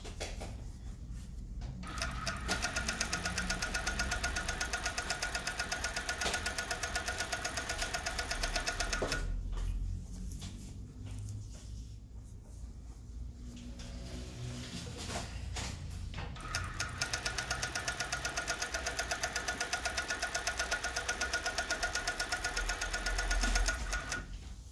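A sewing machine stitches children's trousers in long steady runs, its motor humming loudly with rapid needle chatter, pausing for a few seconds midway before resuming, no talk heard.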